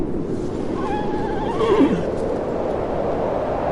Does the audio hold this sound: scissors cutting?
no